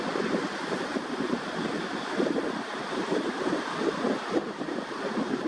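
Small ocean waves breaking along a shore under a steady wind, giving a continuous rolling wash and surge with gusty microphone buffeting and no speech.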